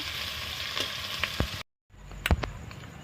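Chopped onions sizzle and fry in a pan for chicken chaap, a steady crackling hiss broken by a few utensil knocks and a brief silent gap midway.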